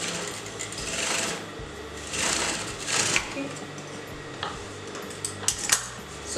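A sewing machine sews the cross piece of a circular fabric poncho in short, uneven bursts, with clinks and light handling knocks between runs. It is close and fairly soft, and no one speaks.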